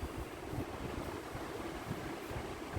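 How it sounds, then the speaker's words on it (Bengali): Hot water is poured into a pot of chicken curry, producing a steady, close splashing rush that continues without break. "আর জলটা একটু বেশি করেই দিচ্ছি কারণ চিকেনের ঝোল থাকবে"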